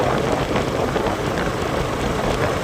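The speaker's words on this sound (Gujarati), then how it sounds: "વરસાદ ચાલુ છે" Monsoon rain falls steadily in Chhota Udaipur, a continuous dense patter that stays fairly loud and even throughout, with no voices.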